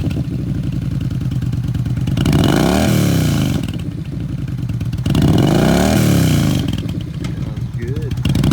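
A used 2014 Yamaha VStar 950 Tourer V-twin touring cruiser rumbles loudly up close, idling with a steady throb and swelling through two throttle revs before settling back.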